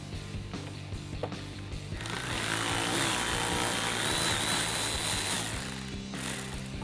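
A ratchet turns out a T15 screw on the rear diffuser of a 2016-2022 Chevrolet Camaro, giving a continuous mechanical whirring and clicking that swells louder in the middle and then eases off, with no talking.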